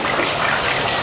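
Water runs into a cooking pot with a steady, rushing gush, close and fairly loud, continuous for a moment with no voices.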